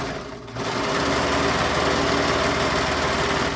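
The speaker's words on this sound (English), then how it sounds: "I'm using the serger just because I can." A serger stitches a roughly quarter-inch seam in fabric, starting after a brief pause and then running as a fast, even mechanical whir with rapid rhythmic clatter, close and fairly loud.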